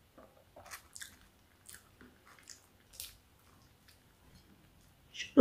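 Soft biting and chewing on a roast chicken dinner, with scattered moist clicks and squishes close to the mic and a louder crunch at the end.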